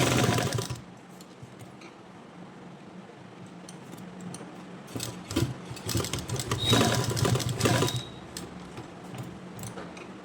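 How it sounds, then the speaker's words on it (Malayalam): A home sewing machine stitches one side of a piece of fabric, sounding as a fairly quiet mechanical whirr with intermittent bursts of faster stitching and clicks, and no voices. "ഇപ്പം ഞാൻ ഫസ്റ്റ് ഒരു സൈഡ് ഒന്ന് സ്റ്റിച്ച് ചെയ്തെടുക്കുവാണ്"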